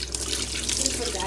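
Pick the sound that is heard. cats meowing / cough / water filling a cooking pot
water filling a cooking pot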